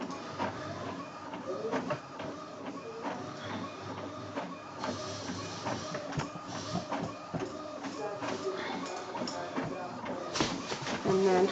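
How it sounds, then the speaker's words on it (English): A label printer loaded with paper runs steadily with a continuous mechanical whir and repeated clicking feeds. A person talks faintly over it. "So you can hear now my printer, it's got the paper in"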